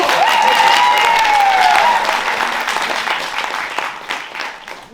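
An improv show audience bursts into loud applause, and a brief whoop rises over the clapping at the start before the noise gradually thins and fades over a few seconds.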